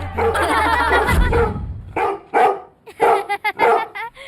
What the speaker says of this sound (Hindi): आधी रात से ये ऐसे ही भौंक रहा है